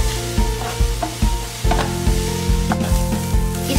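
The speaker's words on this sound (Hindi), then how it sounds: "प्याज जल्दी पक जाए इसके लिए हम नमक डाल देंगे स्वाद अनुसार और इसे लो फ्लेम में हम पकाएंगे" Salted onions frying on a low flame give off a steady sizzle, broken by regular, rhythmic spoon scrapes against the pan, close and fairly loud, with no voices.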